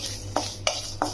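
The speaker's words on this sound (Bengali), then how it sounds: "এবার এটা অল্প আছে, ভালো করে নাড়িয়ে নিতে হবে।" Dry-roasting spices such as cumin, dried red chilli, nutmeg and mace stirred in a kadai for dak bungalow chicken: three short metallic scrapes against a faint hum, close and fairly loud.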